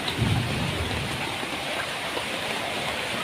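Steady rain pours onto a flooded street in a neighborhood that floods after even light rainfall, a dense, even hiss of water with no talk, a brief louder splash or patter near the start.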